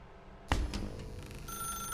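A telephone starts ringing in a game, with a sudden clear bell-like electronic ring that begins after a short quiet lead-in and carries on with bright sustained tones, close and fairly quiet.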